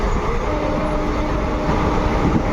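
The Balurghat Express 13161 passenger train runs between Kolkata and Tarapith, heard from on board as a loud, continuous rumble of wheels and carriages with no voices.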